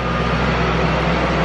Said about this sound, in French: Il y a un petit camion devant là qui est en train de se faire réparer.